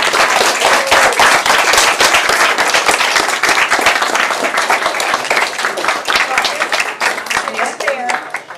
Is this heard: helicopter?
no